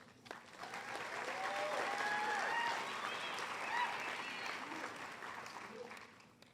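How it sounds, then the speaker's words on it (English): A high school assembly audience at Middleborough High School claps for the student leadership team, steady broad applause swelling and holding for several seconds before tapering off, heard from a distance in a large room, with a few voices mixed in. "And a nice round of applause for our student leadership team."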